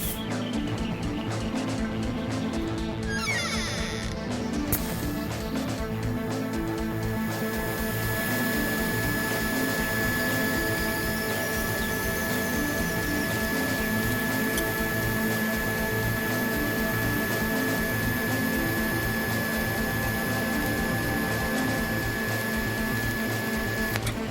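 AHP 201 XD stick welder burning a smaller-diameter rod, a steady loud crackling buzz with dense sizzling texture running continuously throughout, no speech.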